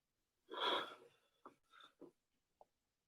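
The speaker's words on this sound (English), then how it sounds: "Deep breath in." Deep breath drawn in during a yoga session, a long airy inhale followed by a few short soft breathy puffs and a tiny click, close and quiet with no talking.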